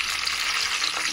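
Peanuts fry in a pan with a dense, steady sizzle and crackle, close and fairly loud, with no talking over it.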